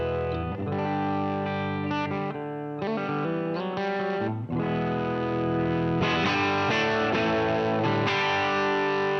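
A 1972 Maybach Edelweiss electric guitar plays through heavy distortion with chorus-like effects, thick sustained chords and notes ringing continuously and loudly, with a brief dip before the tone swells brighter again.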